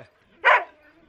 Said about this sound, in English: I've got lots of dogs, and they're just really, really wonderful dogs.